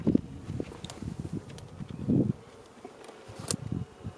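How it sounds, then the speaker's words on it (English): Honey bees buzzing around an open hive box during an inspection of a weak hive, a close, uneven drone with individual bees flying past the microphone. "And down here I've got 1, 2, 3, about 4 frames of bees, all right in here."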